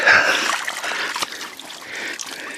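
Wading through shallow creek water after crossing weedy summer food plots, with continuous close splashing and trickling that swells and eases in irregular surges, no talk over it.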